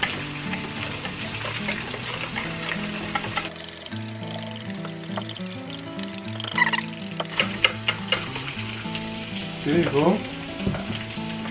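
Pancake batter for pancake dippers sizzles steadily on a hot pan at home, a soft continuous frying hiss under background music, with a brief spoken remark near the end.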